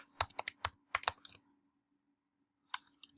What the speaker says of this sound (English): Make sure I type that correctly.